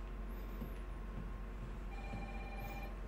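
A telephone rings in Resident Evil 3, with two short electronic ring bursts, one near the start and one near the end, over a steady low in-game hum.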